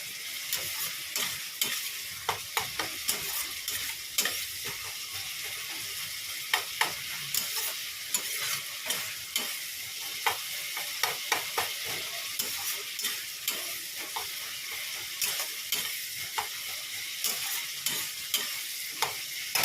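Spice paste being stir-fried in a pan, a continuous moderate sizzle broken by frequent scraping and clicking spatula strokes in an irregular rhythm, with no voices.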